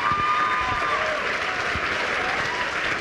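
Steady applause from an audience, a dense wash of clapping that holds at an even level throughout.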